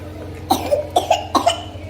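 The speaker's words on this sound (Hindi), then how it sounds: "खांसी हो गई।" Three quick pairs of close, sharp coughs, spaced out in a short rhythmic series against a quiet background.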